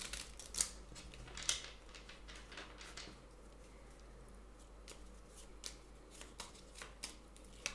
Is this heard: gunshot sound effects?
no